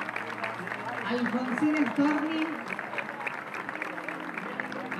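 Applause rises for Florencia Natalia Martínez, a queen candidate representing IPEA 105 at a provincial community pageant, as a crowd claps steadily through the whole stretch beneath an announcer's ongoing voice.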